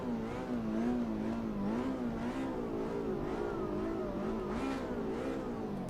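A Ferrari race car engine drones in a racing video game with a steady, wavering whine that rises and falls slightly as it revs, continuous and moderately quiet, with no talking.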